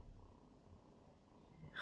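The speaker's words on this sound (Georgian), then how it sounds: "ვაი მე კრუტუნი" A cat purring close by, a soft, low, steady rumble that stays quiet throughout, with a brief louder rustle at the very end.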